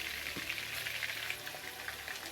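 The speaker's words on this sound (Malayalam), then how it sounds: "ബാക്കിയുള്ള ചിക്കനും നമുക്ക് ഇതുപോലെ തന്നെ വറുത്തെടുക്കാം" Chicken sizzles gently in a pan of butter, a soft continuous crackle with tiny pops, fairly quiet and unaccompanied by speech.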